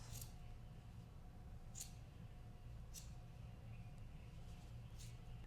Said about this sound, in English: Then I'm gonna go with my scissors. I'm gonna cut all of these in half.